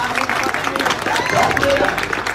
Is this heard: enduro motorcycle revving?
no